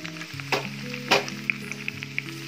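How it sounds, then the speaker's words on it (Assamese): Potatoes hit hot oil with browned onions in a pan on a gas stove, a close sizzle with a couple of louder bursts as they land and get stirred, then an even crackle. No one speaks. "এতিয়া আলুখিনি ইয়াত দি দিম"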